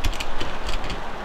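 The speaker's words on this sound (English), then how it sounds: "So you put the handle of the umbrella in the clamps," Clamps tightening around an umbrella handle give a short run of close, rapid ratcheting clicks, loud and alone for about a second.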